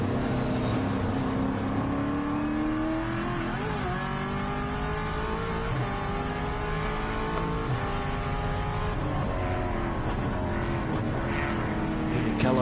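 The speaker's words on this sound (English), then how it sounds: "Jared Carey still not being able to get past that Subaru, the red Subaru, heading up through the bus stop area now" Improved production race cars, including a red Subaru, lap Carco Raceway in Western Australia, engines droning and shifting pitch as they accelerate and pass, loud and continuous throughout.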